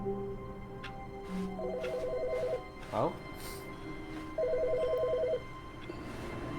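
An old telephone rings in The Stanley Parable: Ultra Deluxe video game, two bursts of bell ringing about a second each with a pause between, heard alongside a brief exclamation and game sounds.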